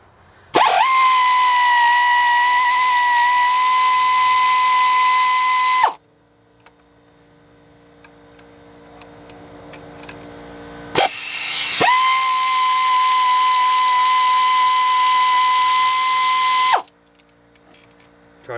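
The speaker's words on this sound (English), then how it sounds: "This air ratchet I got's probably 20 years old." A roughly 20-year-old pneumatic air ratchet, used during a water pump replacement on a Tahoe, runs in two loud sustained bursts of about five seconds each, a steady high whine and hiss with a short quiet gap between them.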